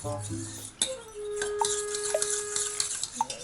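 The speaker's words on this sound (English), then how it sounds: "I washed my whisk already, so I'm just going to use a fork, which works too" A fork stirs a milk pudding and cornstarch mixture in a bowl, giving a run of light clinks and scrapes against the bowl, with a few sharper taps standing out near and clear.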